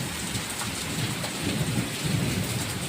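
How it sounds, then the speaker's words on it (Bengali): Heavy rain pours steadily outside, a dense close roar of drops on surfaces with low rumbling thunder rolling underneath, no voices. "বাইরে নেমেছে প্রচণ্ড পরিমাণে বৃষ্টি"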